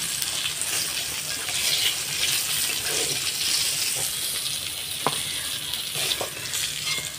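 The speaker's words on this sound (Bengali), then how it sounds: "পটলটা আর একটু ভাজতে দেবো।" Slices of pointed gourd (potol) fry in oil in a pan with a steady, close, fairly loud sizzle and crackle that runs without a break, and no talk over it.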